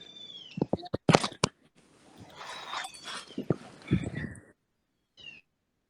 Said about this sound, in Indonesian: Lagi ngasih makan kucing kamu ya?